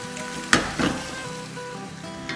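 A spoon stirs potatoes frying in a pan for a home-cooked aloo dish, with two quick scraping strokes close to the mic over a steady, soft sizzle.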